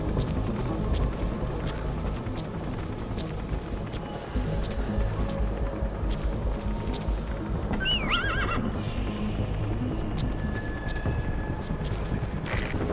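Hooves clip-clop in a steady galloping rhythm under a rumbling soundtrack in Metal Gear Solid V: The Phantom Pain, with a brief whinny midway.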